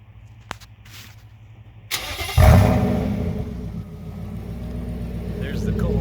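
A 2006 Nissan Titan XE 4x4 with a Carven-R side-dump exhaust starts cold: a brief crank, then a loud rumbling catch that eases into a calm, steady idle heard close up.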